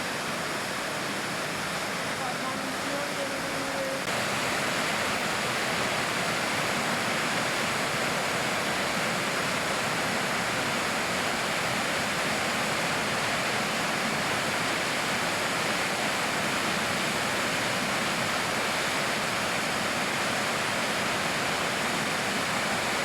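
A waterfall with a cave behind the falling water near Daylesford and Hepburn Springs roars as a steady, dense wash of noise throughout. Faint voices are heard briefly near the start.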